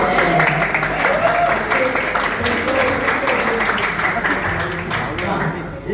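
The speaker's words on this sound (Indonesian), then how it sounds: "Tepuk tangan dulu ya" Audience applause during a talk, a short burst of clapping heard under overlapping voices and room chatter, fairly loud and continuous throughout.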